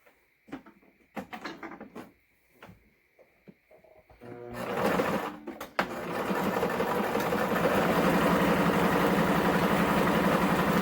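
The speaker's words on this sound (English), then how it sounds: "And now we're going to sew a top stitch all the way down." A sewing machine runs a top stitch along the edge of a fabric face mask, starting after a few soft handling clicks and then whirring steadily and loudly to the end without talk.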